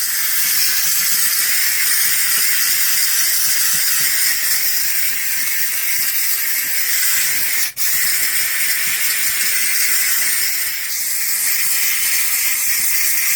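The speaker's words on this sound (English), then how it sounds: "What I really like about this steamer" A handheld steam cleaner with its trigger locked on hisses steadily while cleaning a seat belt, a loud, continuous broadband spray with one brief interruption partway through and no talking.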